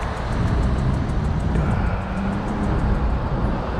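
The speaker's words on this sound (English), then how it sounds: "Whoa, big truck." A big truck passing on a road, heard from a bicycle as a loud, steady low rumble of engine and traffic noise for several seconds, with no speech.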